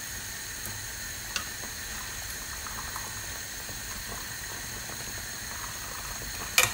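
Homemade fish stock for a lemon sole dish is poured from a pan in a home kitchen, giving a steady, low, bubbling liquid hiss with a few faint clicks and a sharp clatter at the very end.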